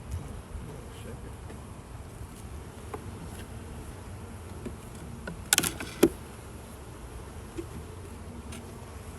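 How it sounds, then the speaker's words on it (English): Honey bees fly around an open hive during an inspection as a soft, steady buzz under light wind noise, broken by a few sharp clicks and knocks of hive equipment. "there's already bees flying over to where I'm stacking these supers with honey in them"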